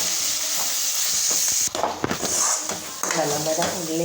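Three tomatoes are added to a pan with onions, chili, coriander powder and masala for a spring onion curry. They sizzle and sauté steadily, with a spoon clattering and stirring against the pan while a voice talks over it.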